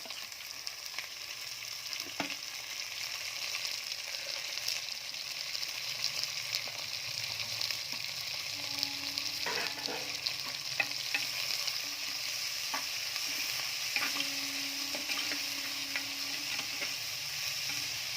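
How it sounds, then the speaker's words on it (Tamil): Tomatoes and green chillies sizzle steadily in a hot pan for a sardine curry, a soft continuous hiss with occasional scrapes and clicks from stirring. "இந்த சலசலப்பு சத்தம் கேட்குதுல்ல அது அடங்குற மட்டும் நல்லா அப்படி வதக்கி விட்டுக்கணும்"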